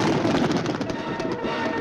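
Pistol fired during a heated quarrel between two brothers: one loud, dense blast with a sustained rumbling decay filling the whole short moment, close and harsh, with no voices.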